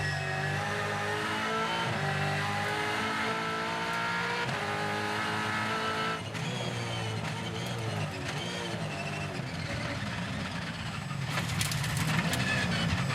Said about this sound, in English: He's battling to keep that race car on the racetrack